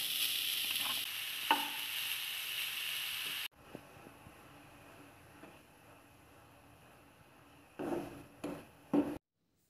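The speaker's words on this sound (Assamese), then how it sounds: "নাৰিকলখিনি ভাজি লৈছো।" Grated coconut frying with sugar in a pan for Assamese khula pitha, an even sizzle with a few scraping stirs that drops away abruptly, leaving quiet with occasional clatter and short scrapes near the end.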